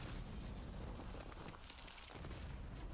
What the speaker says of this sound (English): Hostile grenade.